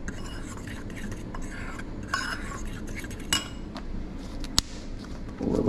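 Homemade tartar sauce seasoned with Old Bay, salt and pepper is mixed in a bowl with a utensil, producing quiet scraping and irregular clinks against the dish, one sharp tap standing out.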